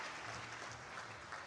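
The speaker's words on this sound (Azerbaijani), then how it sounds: "Alqışlarımızı əsirgənməyək, daha gür alqışları xahiş edirəm sizlərdən" Audience applause at a school knowledge-competition award ceremony, a brief, faint, steady wash of clapping from a crowd.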